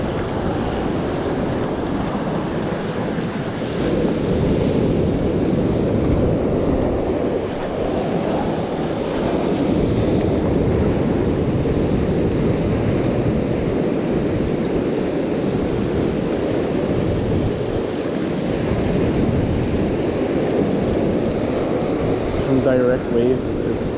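Sea waves and strong currents surge at a Mediterranean shore fishing spot. A constant loud roar of surf comes with gusty wind buffeting the microphone, steady for the whole stretch.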